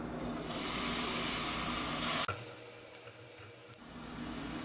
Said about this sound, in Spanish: En una cucharadita de aceite vamos a echar la cebolla